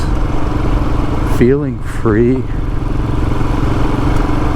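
A motorcycle engine hums steadily nearby with a couple of quick revs, while a person talks over it.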